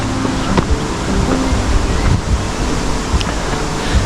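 Water from a small spring streams down through a forest in Manchester toward the River Irk, giving a steady, close, broadband rush with no breaks and no talk over it.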